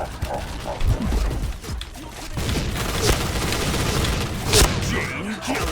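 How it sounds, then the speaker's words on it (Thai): Repeated explosions and gunfire bursts from a zombie-mode online shooter game, loud and dense throughout with heavy booming low end, while players talk over the action. "โอ้ระเบิดเยอะจริง"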